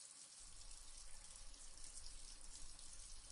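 Water pours steadily in a game, close to overflowing, making a continuous hissing, splashing rush like a running tap that holds at an even level with no voices.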